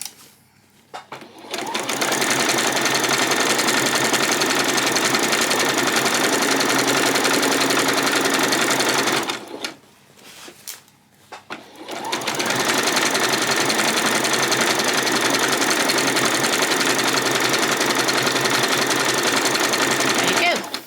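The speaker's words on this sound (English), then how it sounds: "If you've got a serger, you can put this through the serger at this point." A serger overlocking the edge of fabric for a skirt runs loud and close as a steady mechanical whir. It stops briefly at about ten seconds, then starts again and keeps running, with no talking over it.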